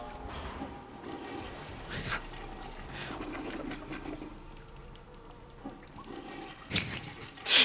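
A toilet flushes with rushing, gurgling water that swells and surges over several seconds, heard fairly close and mid-level, ending with a louder burst of noise.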